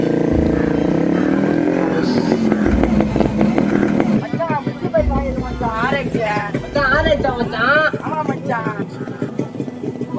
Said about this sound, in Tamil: இனிமேட்டு ஊருல புட்டு புட்டுன்னு ஓட்டுவேன்.